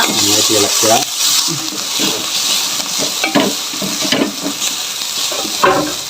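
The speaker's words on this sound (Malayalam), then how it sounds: "ഇളക്കുക" Grated coconut fries in a pan while being stirred, a steady close sizzle broken by scraping strokes of a spoon, with someone talking over it.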